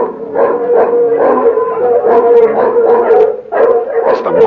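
Mongrel dogs in a village bark, yip and howl together in a dense, overlapping chorus that carries on steadily, close and loud, with no voices over it.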